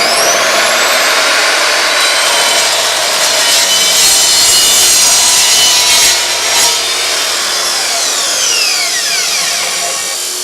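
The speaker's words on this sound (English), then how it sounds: "So the chop saw actually cut that fairly quickly, faster than I thought it normally does." Milwaukee chop saw cutting through material, a loud, continuous abrasive grinding whine that holds steady for about ten seconds and eases slightly toward the end, with no talk.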